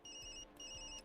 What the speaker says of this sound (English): Sorry, Yumi. That's my phone.